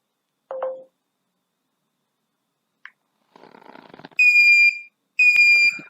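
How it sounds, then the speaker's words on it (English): A smartphone-controlled home alarm system sounds after being switched on: a few soft clicks and a brief rustle, then two loud, piercing electronic beeps, each about a second long, with a short gap between them. "I'm going to speak to my smartphone and I'm going to turn the alarm on."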